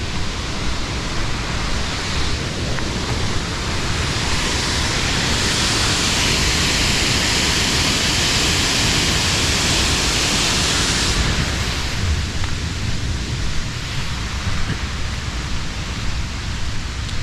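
Waterfall in full flow after a cyclone, a loud, dense, unbroken roar of rushing water filling the whole clip, close and steady with no voices.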